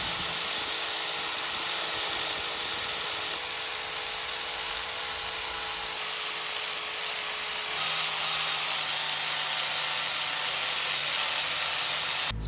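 A grinder polishes a motorcycle exhaust pipe, giving a steady, continuous high-pitched whine that runs loud and unbroken for the whole stretch, with no talking over it.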